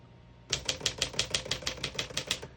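A 1952 Smith-Corona Silent portable typewriter being typed on: about a dozen crisp, evenly paced keystrikes, close and clear, with no talking.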